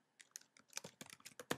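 A root password is tapped out on a computer keyboard in a quick, uneven run of about a dozen crisp, close keystrokes, quiet and with no talking.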